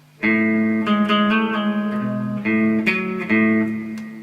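Electric guitar plays a full riff, a steady run of distinct struck notes and chords with shifting pitches, close and clear with no voice over it.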